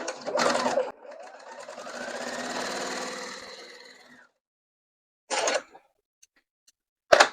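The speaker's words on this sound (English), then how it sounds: "we just sew these row by row" A sewing machine stitches rows of a quilt block together, starting with a short run, then a longer steady whir that slows and stops, followed by two brief bursts of stitching with silence between, close and clear with no talking.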